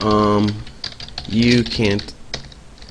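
Scattered clicks of a computer keyboard as Java code is typed, sounding close and sparse underneath someone talking.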